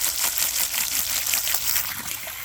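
Water pours from a tap onto dishes being rinsed, a continuous close splashing hiss with slight fluctuations, no talking.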